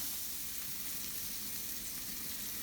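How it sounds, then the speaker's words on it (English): Onions sizzle and fry steadily in a pan still holding browned bits from searing pork, a continuous close hiss with faint stirring and no talk. "So just be careful when you cook the onions because you do want them to get kind of golden brown"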